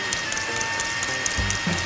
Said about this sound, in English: This motor will keep the drum rotating smoothly